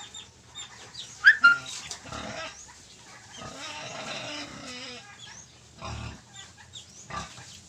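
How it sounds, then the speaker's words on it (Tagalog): Grown pigs in a pen on a farm, giving scattered grunts and squeals at moderate distance amid general barnyard noise, with faint sounds of other livestock in the background. "So, malaki na po yung ating mga baboy ngayon ka-farmers."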